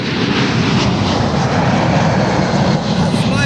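A fixed-wing airplane's engine roars loudly and steadily, a dense broadband drone that fills the whole moment with no other sounds breaking through.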